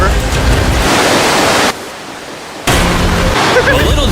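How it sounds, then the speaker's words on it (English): Water from a river running through a cave gives a loud, steady rushing roar. It cuts out for about a second partway through, then returns just as strong. "this river actually runs throughout the entire cave"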